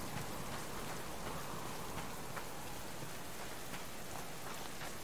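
Rain falls steadily in the survival video game Subsistence, a soft, even hiss with scattered droplet patter and no voices, heard faintly at low volume.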